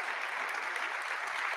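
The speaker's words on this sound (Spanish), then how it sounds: "Les pido un fuerte aplauso" An audience at a conference panel on freedom of association and collective bargaining applauds the speakers, a dense, even burst of clapping throughout this short stretch.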